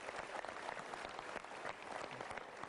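An audience at a motivational seminar applauds, a dense, even patter of many hands clapping at fairly low volume with no pause.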